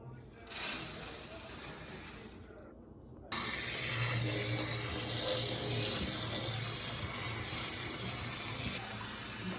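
Tap water runs hard into a sink while four cups of basmati rice are washed. The hiss is steady and close, drops out for a moment, then comes back louder and stays continuous.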